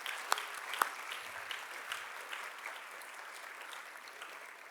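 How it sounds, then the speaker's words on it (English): Faint, distant applause from an audience at a school's annual celebration event, a soft steady wash of many hands with a couple of sharper claps near the start, fading gently. "we can also please give her a round of applause as well"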